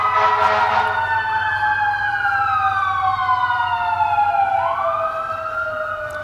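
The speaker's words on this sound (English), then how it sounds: "Holy frig, all the sirens are going." Several emergency sirens wail at once in the distance, overlapping rising and falling tones that slowly sweep down and fade a little toward the end, over a low steady hum.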